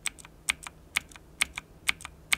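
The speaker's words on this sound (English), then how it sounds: "So you can clearly hear the thud at the end," MSI Vigor GK50 Elite mechanical keyboard keys pressed all the way down, each stroke a crisp click followed by a softer thud, repeating at an even pace close to the listener.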